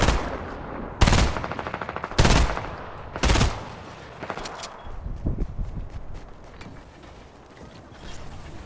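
Loud video game gunshots ring out in sharp bursts, then rapid automatic fire rattles on, with clicking mechanical sounds and no talking.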